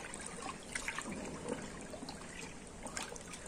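Sulfonic acid being poured into a container for homemade liquid laundry soap, a steady close trickle of liquid with small splashy bursts running continuously throughout.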